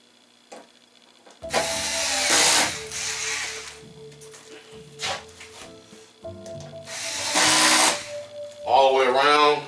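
Screws being driven around the edges of the back panel of a 65-inch RCA LED TV, with bursts of a power driver's whine interleaved with rubbing, clicking handling noises and quieter gaps.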